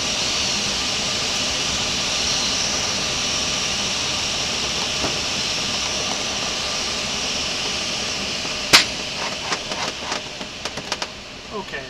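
Steady, loud broadband roar of an aircraft in flight, continuous throughout, with a few sharp clicks and knocks near the end and no talk.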